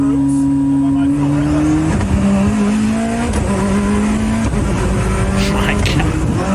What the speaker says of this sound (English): That sounds amazing. It's like half throttle.